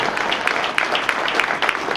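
A crowd claps for a hockey coach at an evening Q&A with the Notre Dame Fighting Irish coach, a busy, even patter of many hands with a few sharper claps standing out, filling the whole moment without talk.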